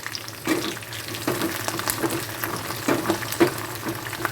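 Dry red chillies and curry leaves frying in oil crackle and sizzle steadily at close range, with light spatula taps scattered throughout and no talking.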